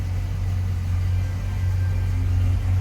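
Idling engine of a 1964 Chevrolet C10 pickup with 1,175 miles since built, a steady low rumble running close and continuous without any clear cranking.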